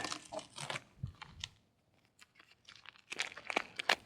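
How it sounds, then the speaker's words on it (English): Masking tape peeled away from fresh caulk around a newly installed window in a cargo trailer camper conversion, heard as several bursts of ripping and crinkling with a quiet pause in the middle, close and fairly soft. "Pull off that tape."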